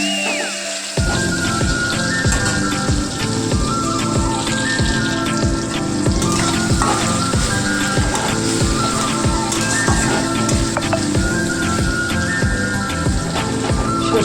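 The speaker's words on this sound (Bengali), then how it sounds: "আপনারা ফোড়নের মধ্যে সর্ষে আর পোস্ত বাটাটা দিয়ে দেবেন।" A mustard and poppy seed paste hits hot oil with tempering spices and fries with a sudden, dense crackling sizzle that starts after a second and keeps on steadily, close and loud, with faint stirring.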